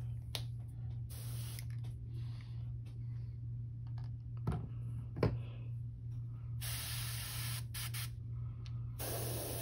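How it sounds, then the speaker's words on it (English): Short hissing bursts of an airbrush spraying paint onto a fishing popper lure, starting and stopping repeatedly over a steady low hum, with a couple of small clicks between sprays. "spraying that color down to the sides here"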